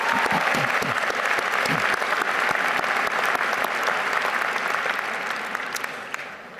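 A large commencement audience at Monmouth University bursts into sustained, loud applause, a dense wash of clapping that holds steady and then begins to taper toward the end.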